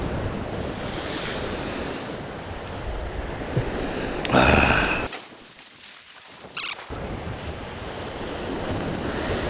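Strong seaside wind gusting across the microphone on a rocky fishing spot off Chujado island, mixed with the wash of surf, loud and steady apart from one brief lull near the middle.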